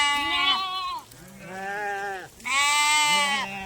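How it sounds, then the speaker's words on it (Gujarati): Sheep and goats in a herd at a rural village bleat near and loud at sunset, three long wavering cries in quick succession with short gaps between them. "મારી પાછળ જે ઘેટા બકરા આવે છે"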